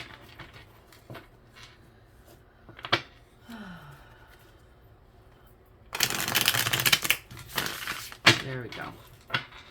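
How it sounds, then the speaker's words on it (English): A deck of tarot cards being shuffled, a loud dense riffling burst in the second half after quieter handling sounds, close up, with a few brief soft vocal sounds. "You really wanted to make sure these got shuffled"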